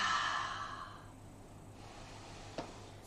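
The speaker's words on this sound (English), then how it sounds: "Inhale fully, exhale completely" A long deep exhale during yoga breathing, a breathy sigh that fades out over about a second, followed by quiet and one small soft click, close and gentle.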